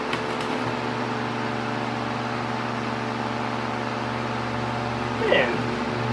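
An antique oscillating electric fan runs nearby with a steady, even motor hum and whir that holds for the whole stretch, with a short louder rustle near the end.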